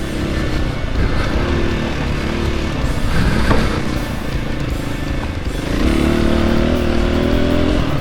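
A Husqvarna 501 FE dirt bike ridden standing up on an Oregon trail, its engine loud and close with a steady drone and rising revs toward the end.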